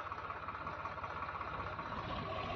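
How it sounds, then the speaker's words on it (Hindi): A tractor engine in a wheat field runs steadily as the tractor drives away, a continuous low rumbling drone with an even knocking throb, fairly faint and with no voices. "तो अब ये ट्रैक्टर फिर से जाता हुआ"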